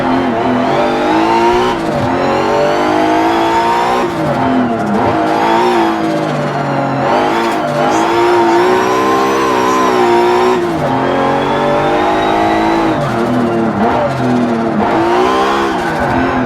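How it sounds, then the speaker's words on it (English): A race car in a racing game revs hard and bounces off its rev limiter, the engine note climbing and stuttering repeatedly in a loud, continuous run with no talk over it. "I don't mind bouncing her off the limiter a bit."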